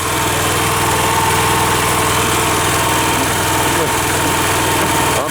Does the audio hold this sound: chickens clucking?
no